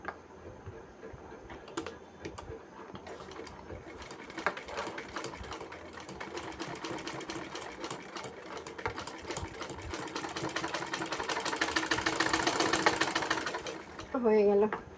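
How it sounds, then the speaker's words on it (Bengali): A sewing machine stitches in one continuous, close, whirring run with a fine ticking rhythm that builds slightly louder toward the end. A voice speaks briefly just as it stops. "এবার এটা চাপ সেলাই দিতে হবে।"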